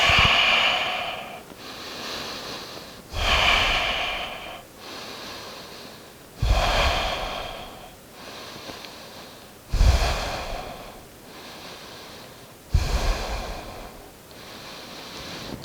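Deep, audible breaths during a wide-legged forward fold in an intermediate yoga flow: long rushing exhales and inhales alternating in a slow, regular rhythm, close and fairly loud, with no talking.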